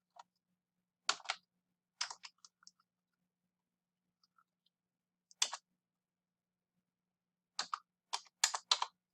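Keystrokes on a computer keyboard come in short separated bursts of quick clicks, with long silent gaps between them and nothing else in the background.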